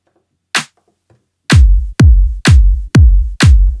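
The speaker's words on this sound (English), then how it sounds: "the effect that this is having is that the clap is hitting ever so slightly before the kick" Minimal techno drum loop programmed on a Novation Circuit Rhythm, a clap nudged slightly ahead of each kick so the two flam together; after a lone opening hit, five punchy, booming kick-and-clap hits repeat evenly and loud, with no talking.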